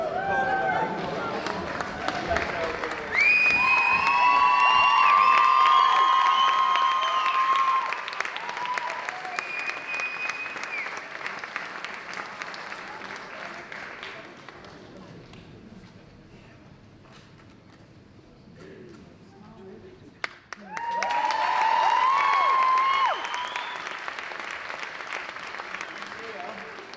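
Audience applause fills an awards night at the NOW Festival 2020 in Liverpool: a long, dense clapping that thins to a quiet lull, then swells again, with voices and some amplified sound over it.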